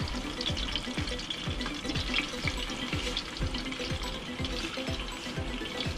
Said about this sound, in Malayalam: എണ്ണ തിളച്ച് കഴിയുമ്പോഴത്തേന് അതിലോട്ട് ചിക്കൻ ഓരോ പീസായിട്ട് പെറുക്കി വെക്കാം